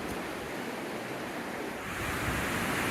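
River water rushing where two rivers collide at Glide, Oregon, a steady, close broadband roar that swells slightly louder toward the end, with no voices.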